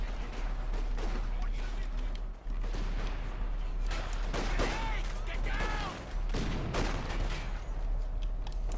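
Two LMG 42 machine guns in Company of Heroes 2 rattle out sustained bursts amid overlapping battle gunfire and crashes, loud and dense across the whole stretch, with no talking.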